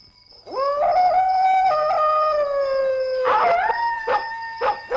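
A dog howls in long, rising and wavering tones, close and loud, breaking into short yips and barks toward the end.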